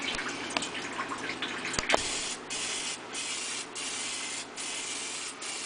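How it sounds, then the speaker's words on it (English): Short hissing bursts of a 50-50 olive and vegetable oil mix sprayed onto swai fish frying in a pan over medium-high heat, several quiet spritzes in a row. "I spray a little oil on what would have been the scale side while it's starting to fry"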